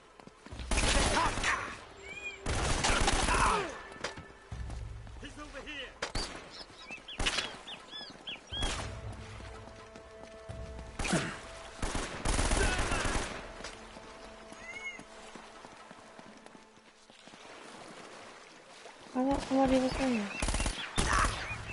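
Assault rifle fire in Uncharted: Drake's Fortune comes as loud separate cracks and short bursts spread through the stretch, mixed with other game noises and a few quieter gaps, with no talk.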